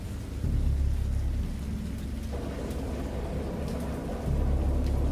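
Deep rolling thunder with steady rain in the horror video game Dagon, a continuous low rumble swelling near the start and again at the end, loud and close with no talk over it.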